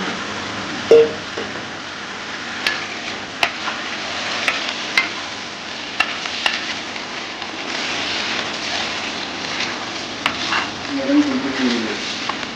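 Marinated chicken goes into a pan of sautéed onions, with a soft sizzle and scattered stirring clinks and taps beneath steady talk.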